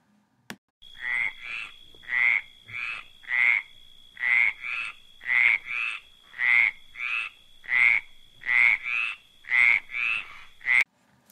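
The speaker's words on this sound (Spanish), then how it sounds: "Muy bien, es una rana." A frog croaks repeatedly in steady paired pulses, about a dozen loud, close calls over a faint constant whine, with no voices.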